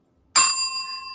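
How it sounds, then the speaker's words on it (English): A single bright bell ding rings out clearly against silence, its clean metallic tone sustaining and slowly fading over about a second. "Is that a bell?"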